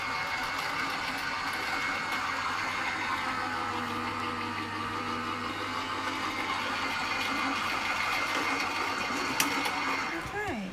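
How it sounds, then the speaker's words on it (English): A die cutting machine runs steadily at close range with a continuous mechanical drone and grinding hum, ending with a short squeak as it finishes. "I'm going to run that through the die cutting machine. It's going to be noisy"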